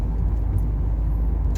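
Cabin noise inside a moving Ford Focus MK1, a steady low engine and road rumble with a faint hiss above it and no talking.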